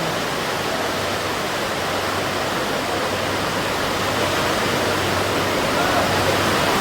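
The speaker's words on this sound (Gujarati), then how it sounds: "જો ખાલી વરસાદ પડે છે" Steady heavy rain pours down without a break, a loud, even wash of noise close by that never lets up across the whole stretch.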